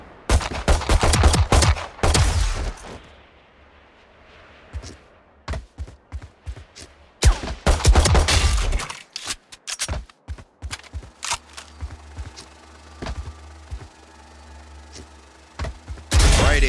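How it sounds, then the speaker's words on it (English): Rifle fire at training bots in the Valorant video game: loud, sharp gunshots in rapid bursts, with short volleys early, a dense burst in the middle and scattered single shots toward the end, with no talk over them. "Try it on these bots, then grab the rifle."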